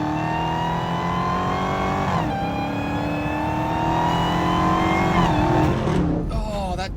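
Supercharged Dodge Hellcat Redeye under sustained acceleration, a loud, steady engine roar with a rising supercharger whine, easing off briefly near the end.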